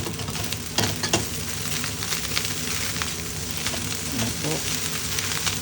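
Egg fried rice with garlic, carrot, soy sauce, oyster sauce, sesame oil and sugar sizzles steadily in a pan, a constant frying hiss with occasional stirring clatter beneath a voice speaking briefly.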